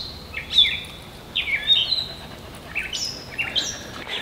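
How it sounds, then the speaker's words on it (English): Several small birds chirp in a quiet cove by the water, bright short tweets and rising calls in scattered bursts over a hushed background. "We're back in the land of chirping birds."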